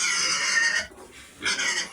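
A pig in its pen, kept on cooked squash and overripe bananas, lets out two loud, harsh squealing bursts close by, separated by a short lull of quieter grunting.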